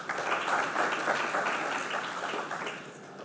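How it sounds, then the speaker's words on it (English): Audience at a corporate full-year results announcement clapping, a full, steady round of applause from a sizable crowd that eases slightly toward the end. "You should clap for that."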